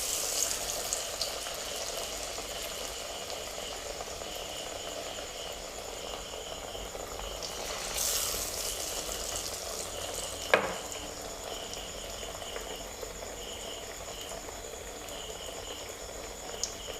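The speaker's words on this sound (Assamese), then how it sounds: "এতিয়া মই তেলত এৰি দিছোঁ" White gourd slices fry in hot oil with a faint, steady sizzle and crackle, with one brief louder pop partway through, and no voices.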